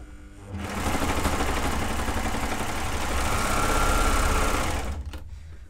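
A sewing machine runs steadily for about four seconds while stitching children's overalls, a continuous close whirring hum that starts up and cuts off at the end.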